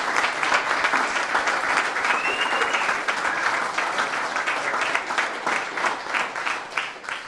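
Sustained applause fills a boxing post-fight press conference, a dense steady wash of many hands clapping for the full stretch without pause.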